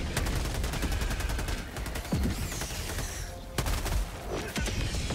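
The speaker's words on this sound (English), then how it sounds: "I've called in a bunch of artillery." Artillery strike explosions from the Helldivers 2 video game, a dense run of repeated booms and gunfire-like cracks, loud and continuous, with several sharper blasts standing out near the end.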